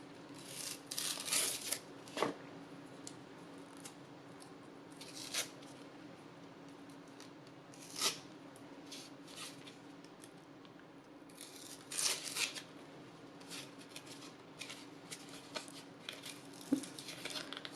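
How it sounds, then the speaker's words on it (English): Paper layer being ripped off a canvas to expose corrugated texture, heard as faint scattered tearing and crinkling bursts at close range with quiet gaps between, no talking. "I'm just gonna try to pull up an edge here and rip the top layer off to show that corrugated texture"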